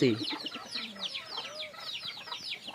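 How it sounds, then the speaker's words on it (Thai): Native free-roaming chickens clucking around an orange orchard, several birds giving repeated short clucks and calls at close range, continuous and fairly busy, with outdoor ambience behind. "ผู้ช่วยชั้นดีครับ ไก่พื้นบ้าน"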